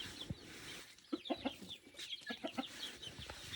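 Pet chickens cluck in short, bunched bursts at feeding time, several birds close by with soft repeated calls over a quiet farmyard background.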